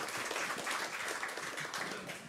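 A church congregation applauds steadily at a discipleship-training testimony service as the next speaker comes forward; the clapping is dense and fairly even for the whole stretch, with no voices over it.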